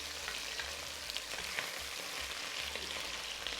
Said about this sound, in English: I can see little bits of potatoes actually browning quite nicely